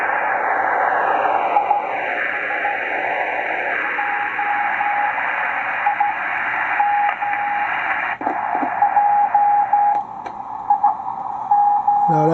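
A radio station received on a Ten-Tec Argosy 525 shortwave transceiver with its notch filter engaged, a steady noisy broadcast with a sweeping whistle tone that glides down and settles, continuous and fairly loud throughout.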